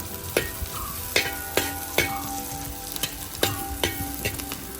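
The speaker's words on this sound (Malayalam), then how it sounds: "നന്നായിട്ട് സബോള ഒന്ന് വഴറ്റിയെടുക്കുക." Onion, ginger, garlic and green chilli sautéing in an outdoor pan: a steady close sizzle punctuated by regular sharp clinks and scrapes of a spatula, roughly one every half second.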